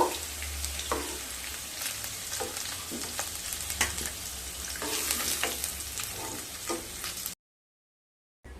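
Dry chili, bay leaves, cardamom, cloves and cinnamon frying in oil left from browning potatoes, a continuous close sizzle with occasional stirring clicks, moderately quiet, then breaking off abruptly near the end.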